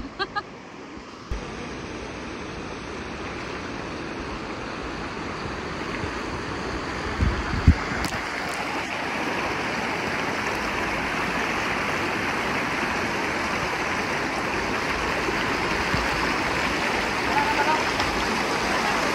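River stream flowing on a mountain trail in Zambales, Philippines, a steady rushing wash of water heard close, with a few brief knocks and voices talking over it.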